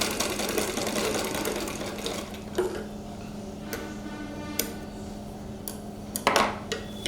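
A sewing machine stitches a tulip sleeve, with a steady low mechanical hum and faint ticking, plus a few sharp clicks and clatters near the end.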